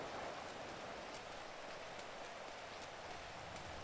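Steady rain falling in a GTA roleplay game world, an even, dense hiss of raindrops that holds constant and close throughout, with no voices.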